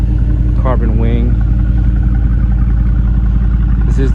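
A Mercedes-AMG GT R with carbon wing and diffuser idles close by, a steady throaty exhaust burble running unbroken throughout, with brief talk over it early and near the end.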